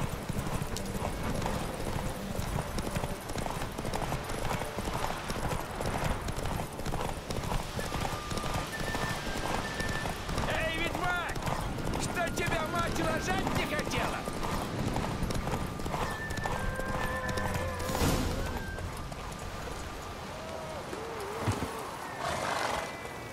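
A horse gallops hard in The Witcher 3 during a race: rapid, continuous hoofbeats with whinnies and snorts, rider shouts and game sound effects over it, loud and close throughout.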